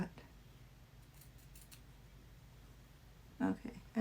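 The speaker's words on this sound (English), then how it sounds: "If I can get this little hole cut." Scissors snip a small hole in fabric, a few quiet close cuts with faint clicks over a low hush, followed by a louder brief snip near the end.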